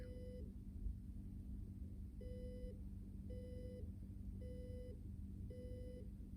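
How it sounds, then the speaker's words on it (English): An Arduino pressure alarm buzzer sounds in repeated short beeps, five pulses spaced evenly over a steady low hum, fairly faint. "Now the buzzer is working."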